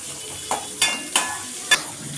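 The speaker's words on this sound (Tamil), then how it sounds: "தக்காளியை போட்டு வதக்கணும், அது பொன்னிறமாக வரணும்" Tomatoes sizzling as they fry in a pan, a steady close hiss broken by four quick scraping strokes of a stirring spoon.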